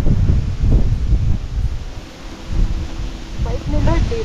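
Gusts of wind buffet the microphone and stir leaves in uneven surges, with a voice speaking briefly near the end.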